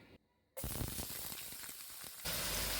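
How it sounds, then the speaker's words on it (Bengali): Finely chopped onion and garlic fry in hot oil in a pan, a sudden loud sizzle that starts after a brief quiet and then hisses on steadily and up close. "হালকা ফ্রাই করে নিচ্ছি।"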